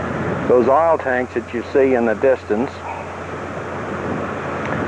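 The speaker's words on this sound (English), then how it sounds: "That noise you hear is the car sitting there, and that's the fan on the radiator coming on and off." A parked car idles nearby, its radiator fan producing a steady whirring drone under a man's speech and continuing alone afterward.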